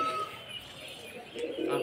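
Pigeons feeding on scattered grain coo softly in short low notes, with faint chirps mixed into a steady outdoor background.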